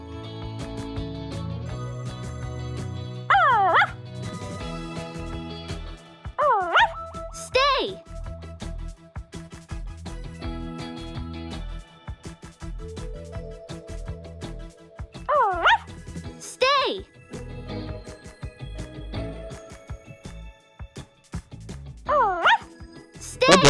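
Cartoon puppy barks in an animated Barbie and sisters puppy rescue scene, several bright yipping barks in short bursts over background music and a voice.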